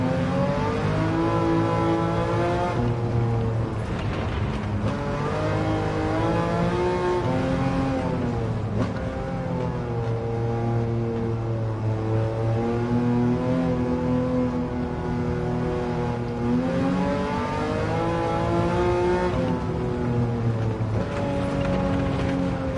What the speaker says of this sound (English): Love the way this engine cracks